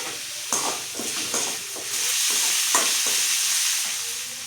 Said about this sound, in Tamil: நம்ம பொடியாக கட் பண்ணி வச்சுக்கிற 3 வெங்காயத்தையும் கருவேப்பிலையும் போட்டு இதில் வதக்கலாம்